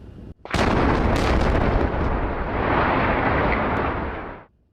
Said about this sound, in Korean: 거대한 폭발음과 함께 타워 2기가 한 번에 무너집니다.